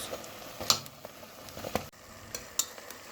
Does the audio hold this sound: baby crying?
no